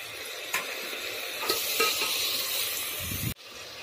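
Keema sizzles in a pan as capsicum and tomato are added and stirred, with steady frying hiss, a few clinks and scrapes of a spoon against the pan, and a sudden cutoff near the end.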